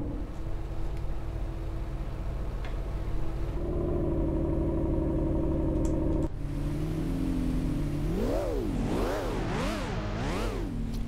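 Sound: Lamborghini Reventon engine in the video game City Car Driving

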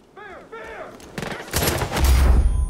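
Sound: gunfire from a gun in the video game Far Cry 5

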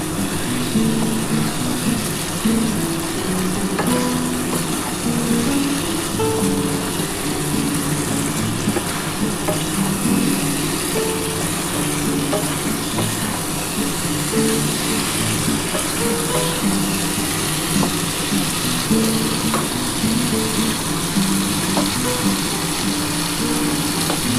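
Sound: sautéing shrimp with bottle gourd in a pan

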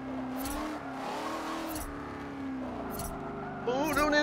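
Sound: race car engine in video game Forza Motorsport 7

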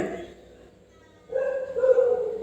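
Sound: dog barking

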